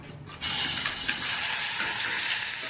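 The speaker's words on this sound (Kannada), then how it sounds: "ಇದನ್ನು ಸ್ವಲ್ಪ ರೆಡ್ ಈ ಕಲರ್ ಬರೋವರೆಗೂ ಇದು ಮಾಡ್ಕೋಬೇಕು, ಫ್ರೈ ಮಾಡ್ಕೋಬೇಕು" Garlic dropped into hot oil already holding mustard seeds and cumin bursts into a loud, sudden sizzle that then holds as a steady bright frying hiss, close up and without talk.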